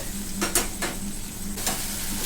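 Spices with Kashmiri chili powder frying in oil in a pan: a steady close sizzle broken by a few brief scraping stirs, with no one speaking.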